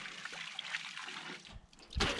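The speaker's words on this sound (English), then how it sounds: "Onto the rinse cycle." Water sloshes faintly inside a washing machine during its rinse cycle, a short, quiet, low churning that swells briefly at the end.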